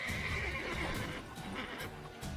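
A horse in The Witcher 3 video game neighs and whinnies loudly, with clip-clopping hooves mixed in, in a short burst.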